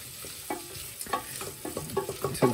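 Mushrooms and onions sweat in a pan, giving a soft, quiet sizzle broken by irregular scraping and clacking as they are stirred, the stirs growing more frequent toward the end.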